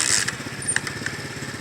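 A small 2012 Icebear Mango scooter engine runs close by with a quick, uneven putter, and a few faint clicks and clatters sit over the steady beat.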